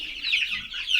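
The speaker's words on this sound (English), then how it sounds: "There's chickens everywhere." Chickens clucking steadily among a large flock at a chicken tractor, a close, continuous chorus of busy hen calls with no voices.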